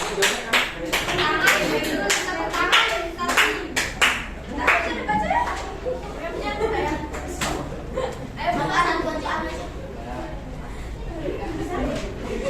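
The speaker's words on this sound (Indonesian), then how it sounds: "Kita tepuk tangan." Classroom applause from a small group after a student presentation, scattered claps mixed with chatter and laughter, steady and close throughout.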